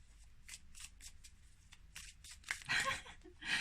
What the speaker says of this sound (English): The reason I shuffle the cards and have to pick one